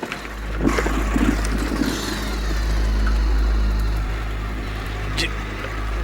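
A motorcycle engine on a road at night, sputtering before it dies: a low droning rumble that swells and then fades out, with a few sharp clatters and voices mixed in.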